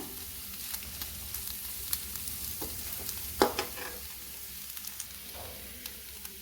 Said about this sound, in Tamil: தேங்காய் நல்லா மிக்ஸ் பண்ணி விட்டுக்கலாம். 2 நிமிஷம் நல்லா இலக்கி விட்டுக்குங்க.